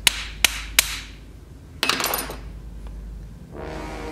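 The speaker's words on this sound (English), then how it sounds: "Take the handle of a screwdriver here." Three sharp metallic taps ring out as a screwdriver handle strikes an old 1960 hand-crank lawn mower, followed by a few softer knocks and a scraping rustle, close and with no talk.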